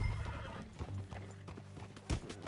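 A horse in Red Dead Redemption 2 clops along with close hoofbeats and gives a short neigh near the end, heard alone without talk.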